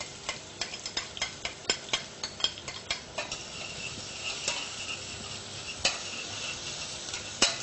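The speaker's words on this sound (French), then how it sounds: "On va faire fondre donc les échalotes avec le gras du foie gras, sans coloration aucune" Shallots softening in foie gras fat in a pan without browning, with a gentle steady sizzle and a rhythmic run of spoon scrapes and taps as they are stirred, slowing toward the end.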